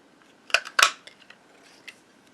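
Scissors cutting a small piece of scrap paper for a punch-art Santa card, two crisp close snips followed by a few faint clicks.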